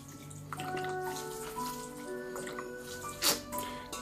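Holy water is poured into a spiritual cleansing bath, a close trickle with dripping and splashing in bathwater, moderately loud with one brighter splash near the end and no talking.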